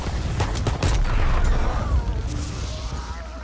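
Gunfire in a WW2 zombies video game comes as a loud, dense cluster of rapid shots early on, then rumbling booms that trail off, with a bit of voice in the mix.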